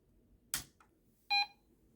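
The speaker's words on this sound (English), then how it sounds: "Okay, got the beep." A short, clean electronic startup beep from an Apple IIc Plus computer sounds once after a brief click and noise burst, then silence.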